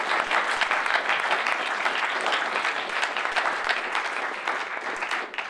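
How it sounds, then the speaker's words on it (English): Sustained audience applause after a student government election debate, a steady dense wash of many hands clapping throughout, fairly loud and even, with no talk over it. "give a round of applause to both of the candidates"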